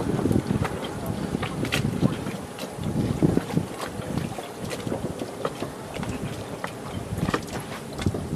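Sailboats mill about near a race start line on the Chesapeake, with steady wind buffeting and water wash carrying throughout at moderate loudness and no clear foreground event.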